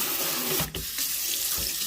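A faucet runs steadily to rinse a dirty sink after drain cleaning with a Bauer auto-feed hand-held drain cleaner, a close, continuous splashing hiss with a brief dip partway through.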